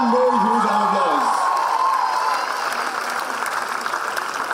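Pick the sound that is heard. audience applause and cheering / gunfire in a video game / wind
audience applause and cheering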